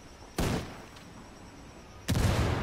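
A frag grenade blast and gunfire in Ghost Recon Wildlands: two loud, sharp bursts about a second and a half apart ring out over quiet ambience, the second one sustained, with no speech.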